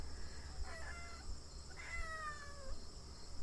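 A pet cat gives two short meows in quick succession, faint and somewhat distant, over a steady background hum.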